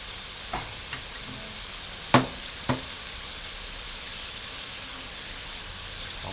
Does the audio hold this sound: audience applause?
no